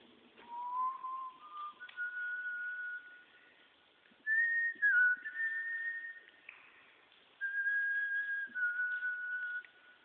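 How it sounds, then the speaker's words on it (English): A person whistles a wandering tune in three phrases with short pauses between, clear and fairly close, with no talking. "Sound pretty neat if you whistle."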